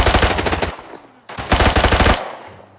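An AKM rifle fired from the hip in Arena Breakout, heard as two loud, rapid bursts of automatic gunfire with a short gap between them.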